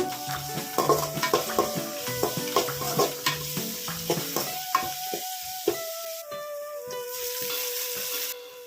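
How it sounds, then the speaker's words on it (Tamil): Ginger garlic paste with curry leaves frying and being stirred in a pan for a village-style kara kuzhambu, with steady sizzling under repeated scraping and clinking of a spoon against the pan, close up, no talk. "1 டேபிள் ஸ்பூன் அளவுக்கு இஞ்சி பூண்டு விழுது சேர்த்துட்டு ஒரு 3 மினிட்ஸ் வந்து அதை ஃப்ரை பண்ணிக்கோங்க"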